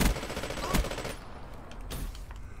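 Gunfire in Black Ops 3 as an enemy player shoots down a UAV, a rapid fusillade of shots that starts loud and up close, then drops to quieter scattered firing.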